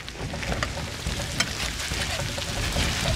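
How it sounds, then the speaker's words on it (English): A bacon weave fries in a pan at 325 degrees, crackling and popping with irregular sharp spits over a constant sizzle, close and fairly loud. "We are cooking it at the most amazing temperature possible for bacon, 325"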